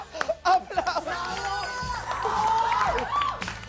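Studio audience on a Chilean television comedy show cheering and shouting, a loud crowd roar that swells and holds, mixed with whoops and a few voices over it.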